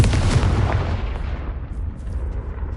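A Confringo blast spell goes off in Hogwarts Legacy gameplay, a loud close explosive boom with a deep rumbling tail that fades over a couple of seconds.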